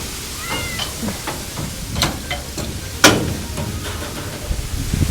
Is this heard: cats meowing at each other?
yes